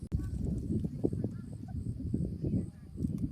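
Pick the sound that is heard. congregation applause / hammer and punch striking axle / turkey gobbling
turkey gobbling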